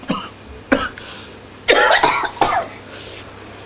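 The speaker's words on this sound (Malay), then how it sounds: "Oh, 3 kali dia batuk ni." A person coughs three times in sharp, separate bursts, close and loud, with a faint throat-clearing rasp between them and quiet room noise behind.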